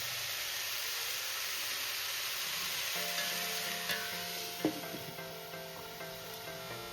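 Drumstick flowers cooking with eggplant in a covered pan, a faint steady sizzle and hiss with a few soft clinks partway through.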